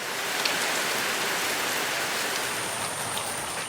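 Steady, dense rain falls through a Borneo rainforest, a continuous close hiss of drops on leaves and surfaces with no breaks and no voices.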